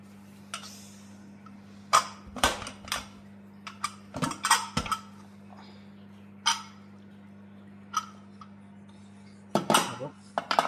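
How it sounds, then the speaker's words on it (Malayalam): A pressure cooker is opened in a home kitchen while a Kerala chicken stew is being made. Sparse, sharp metallic clanks and clinks of the lid and pot ring out one by one over a low steady hum. "അപ്പൊ നമ്മുടെ കുക്കർ തുറക്കുവാണേ."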